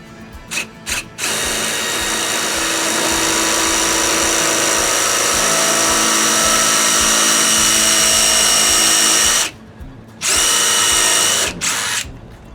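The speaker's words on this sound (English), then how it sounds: "Then I tip the tool over with my beloved countersink right on there." A power drill with a countersink bit bores into wood for a mailbox build, whirring loudly and steadily for about eight seconds after a few brief starts, then stopping and restarting in short bursts.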